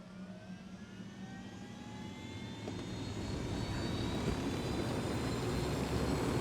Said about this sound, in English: We got a helicopter too for this, so let's make it easy.